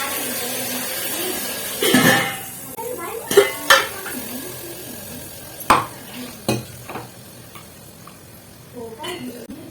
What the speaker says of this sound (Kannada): ಈಗ ರುಬ್ಬಿರುವಂಥದ್ದು ಮಸಾಲೆನ ಹಾಕೊಳಕಂತೀನಿ ನೋಡಿ